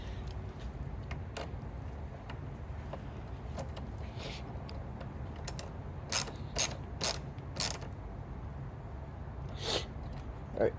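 Close clicking of a ratchet wrench tightening a car battery terminal on a Chevy Cruze, scattered at first and then in quick bursts of rapid ratcheting, with quiet background hum.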